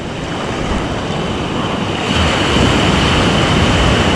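Big sea waves break and roar continuously on the shore, loud and close, with wind buffeting the microphone and the surge swelling heavier halfway through.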